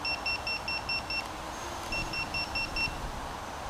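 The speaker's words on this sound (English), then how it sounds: "this beeper is so loud" A small FPV drone's beeper chirps in two bursts of rapid, evenly spaced high-pitched beeps over a quiet background hum.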